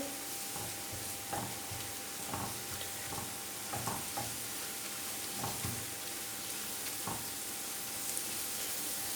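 Onions with garlic ginger paste sizzle steadily in a pan while a utensil stirs and scrapes at irregular intervals, close and continuous with no talking.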